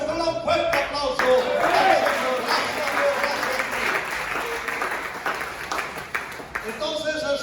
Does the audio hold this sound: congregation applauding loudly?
yes